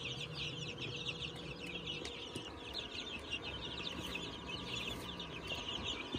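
Chicks in a coop cheep continuously in a dense, high-pitched chorus, moderately faint and steady, with no speech.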